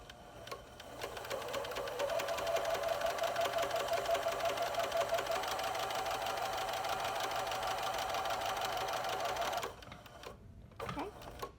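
A sewing machine stitches a felt tree piece into place, running in a steady rapid whir for several seconds close up, then stopping, followed by a few small handling clicks.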